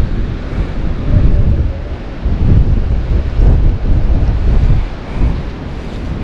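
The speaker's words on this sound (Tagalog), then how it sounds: "Sa sobrang lakas ng hangin." Strong storm wind buffets the microphone in a steady, loud roar with gusting surges, dense and close throughout, and no voices.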